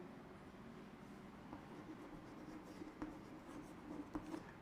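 A pen writing on paper during a quiz practice session: faint, close scratching strokes with a few sharper taps, quiet and continuous.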